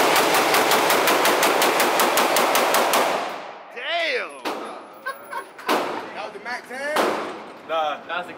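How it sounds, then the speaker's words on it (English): Rapid string of loud Glock pistol shots at an outdoor gun range, a fast volley of sharp cracks for about three seconds, then voices talking and exclaiming afterward. "That was a Glock."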